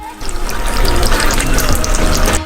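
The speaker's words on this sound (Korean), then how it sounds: "물 100ml를 부어요." Water, 100 ml, poured into a pot for sugar syrup for giant DIY Skittles candy, a steady continuous splashing pour lasting a couple of seconds, close and fairly loud with no talk.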